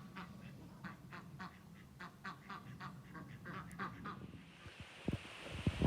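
Ducks quack repeatedly in a rapid, chattering series, fairly faint against a background hum, with some thumping noises near the end.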